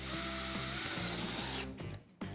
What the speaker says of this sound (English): I am first going to drill pilot holes to prevent the wood from cracking when I add the screws.